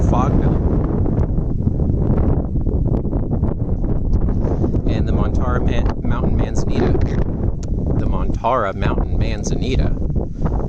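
Strong wind buffeting a camera microphone on a coastal summer hike on Montara Mountain, a loud, constant low roar with gusty surges while someone talks over it.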